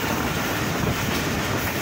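Passenger train on the route between Murree and Multan, a close, loud, steady rumble of wheels on rails with faint clatter, filling the short stretch without talk.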